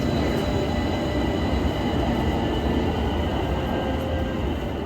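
A Pittsburgh light rail train rumbles steadily through the old Panhandle Tunnel, a loud continuous roar of wheels on rails with a faint high squeal riding over the din.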